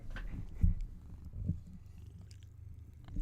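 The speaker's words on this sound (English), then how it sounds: "Stella, are you entertaining them with your kitty purr?" A soft, low purr rumbles close by in gentle rhythmic pulses, quiet and continuous.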